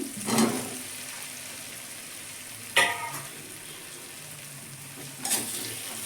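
Lightly boiled potatoes tipped into a pan over low gas, followed by a steady low sizzle of frying with a few brief stirring scrapes and clatters, no one speaking.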